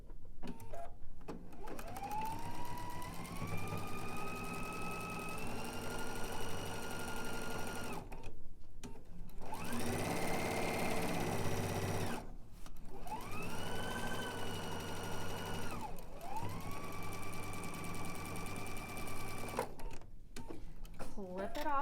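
A sewing machine runs close and loud in long steady bursts as it stitches a seam end to end for a partial seam, pitch rising as each run gets going, with short pauses between runs.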